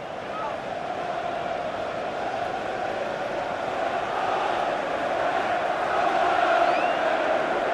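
A stadium crowd in the FIFA 15 video game claps and murmurs for a player during a Premier League match, Sunderland against Crystal Palace, a dense steady roar that rises slightly toward the end.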